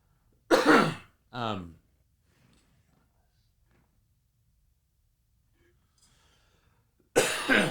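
Two sharp coughs with a throat clear, followed by a long near-silence and another burst of coughing at the end.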